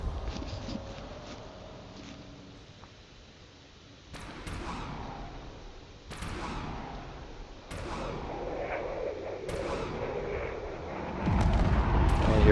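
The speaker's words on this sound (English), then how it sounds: "Some of those cannon shells are connecting," Cannon shells and missiles boom and crack in a drone space battle video game against a cruiser, a rumbling barrage of repeated heavy impacts that grows louder toward the end, with no talking.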